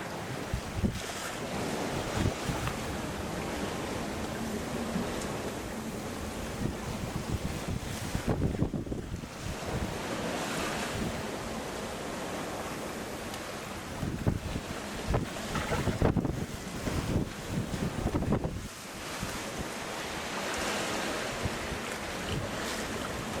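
Strong ocean wind blowing 20 to 35 knots and surging waves around a sailboat at sea off Southern California bound for Hawaii, a loud steady roar with gusting swells and buffeting against the microphone.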